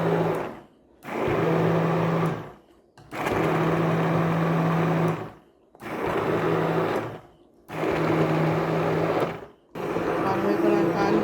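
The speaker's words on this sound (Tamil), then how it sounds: "இப்போ நான் ஹேண்ட் பிளெண்டரால் வந்து அதை வந்து ரெடி பண்ணுறேன்" A hand blender purées cooled, boiled vegetables into soup, whirring loudly in five short bursts separated by brief pauses.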